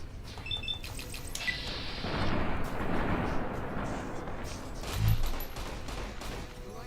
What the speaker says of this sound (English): My shooting is atrocious. It might just be the gun. It is a fully automatic gun.